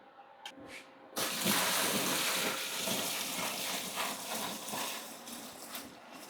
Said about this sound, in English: I'm going to add this to the reservoir, and I'm going to add more water to it to water it down.